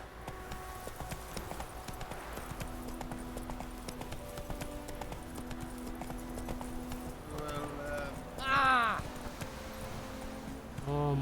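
Horse hooves clip-clop steadily in The Witcher 3 as the mount Roach moves along, with game ambience beneath, a brief whinny near the end and someone talking over it.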